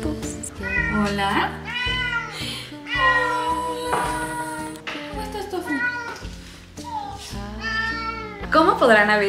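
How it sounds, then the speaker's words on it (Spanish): Several cats meowing insistently, overlapping and close, with a few drawn-out cries and a voice talking among them. "Vamos a ver a los gatitos."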